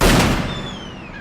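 A single loud handgun shot fired indoors at night in the 2007 Halloween film, a sharp broadband crack that decays into a lingering reverberant tail, with no voices.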